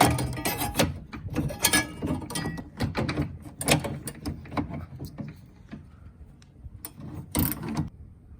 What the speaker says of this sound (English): I had to stick the socket on the nut first and then try to get my ratchet in there on the socket